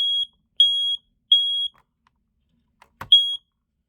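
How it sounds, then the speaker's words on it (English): A Kita i4618AC ionization smoke alarm sounding during a test, emitting loud, piercing high beeps in a repeating pattern, with a brief clunk before the final beep. "The Kita i4618AC, which is an ionization detector."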